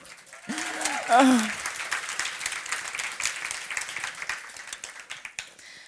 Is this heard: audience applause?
yes